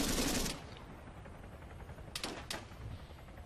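Arma 3 gunfire comes as a loud burst at the start, then gives way to quieter distant crackle and a couple of sharp shots later in the brief clip, with no talking.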